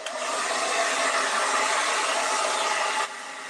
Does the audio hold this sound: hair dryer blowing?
yes